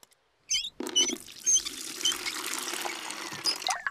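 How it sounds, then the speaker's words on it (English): Cartoon water pours into a bucket, a gurgling, trickling stream that starts after a brief pause and keeps running with small splashy patters, fairly close, no talk. "First, I need some water."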